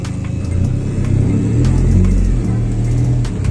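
Tuned Renault Twingo with air suspension drives on a short test run, its mid-pitched engine humming and rumbling steadily with a mild swell, with light knocks and clicks from inside the car.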